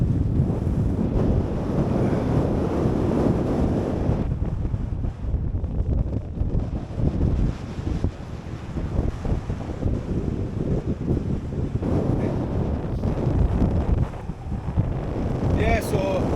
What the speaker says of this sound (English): it was forecast for around about 25-mile-an-hour winds with gusts of up to 30 mile an hour